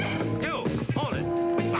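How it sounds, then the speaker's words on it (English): A small dog named Princess yips and bow-wows in short bursts during a chase scene, the barks close and clear over a busy background with faint voices. "It's that dog, the princess, and then there's a man chasing her."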